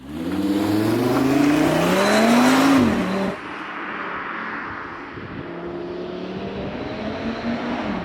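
Facelifted 8Y Audi RS3 driven on open roads, engine note climbing loudly under acceleration, then a sharp drop as it shifts or lifts off, settling into a steady cruising drone with tyre and wind roar.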